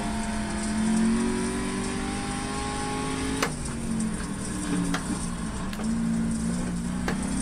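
A race car in the iRacing video game drones steadily, its engine tone rising and falling through shifts, with sharp clicks at intervals, loud and close throughout with no talking.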